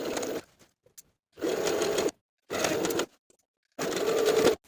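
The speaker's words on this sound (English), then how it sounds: "edge stitch along the innermost fold all the way around" A sewing machine edge stitches along the innermost fold of a neckline binding on an upcycled colorblock tank top, running in four steady bursts with short pauses between them, close and alone.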